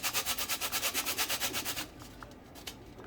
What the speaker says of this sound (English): I'll grate about 1/4 teaspoon of nutmeg.